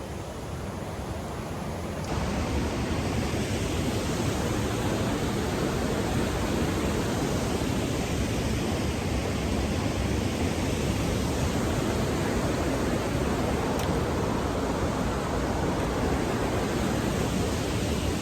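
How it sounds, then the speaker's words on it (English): Small waterfalls on the Hiwassee River pour in a steady, broadband rush that swells louder after the first couple of seconds and then holds an even, close roar without pause. "get a shot at the lower side of these little waterfalls here"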